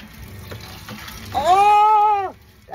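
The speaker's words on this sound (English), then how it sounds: "Let's see if we get water to the sink now." Water sputters from a faucet into a sink in a camper van just after an electric water heater install, a brief hissing gush that swells, holds for about a second, then stops.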